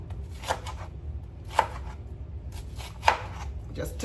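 A knife slices an onion into cubes on a cutting board, giving crisp, irregular chopping knocks in small bursts over a few seconds, close and clear with no talk over them.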